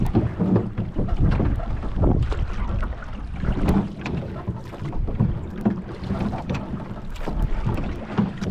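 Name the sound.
wind while rowing a boat on a lake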